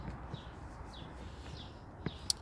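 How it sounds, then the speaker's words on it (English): Birds chirping outdoors near a blooming apple tree, a few faint, brief high chirps scattered over quiet ambient background, with one sharper call near the end. "So listen to the birds, they're chirping."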